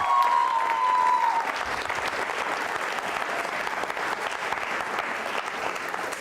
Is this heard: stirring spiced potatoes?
no